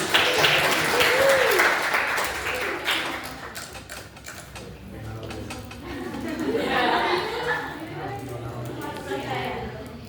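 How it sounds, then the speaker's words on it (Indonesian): A university civics class claps for group members after their presentation, a spread of scattered hand claps mixed with chatter and talking voices that swells near the start and again later. "Tangannya kasih tepuk tangan buat anggota dong"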